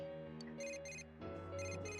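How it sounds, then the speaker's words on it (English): An in-game phone rings in Persona 4 Golden, two repeated electronic ringtone bursts over soft, steady background music, faint and with no talking. "Oh, phone's ringing."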